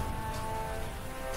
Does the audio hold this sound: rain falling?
yes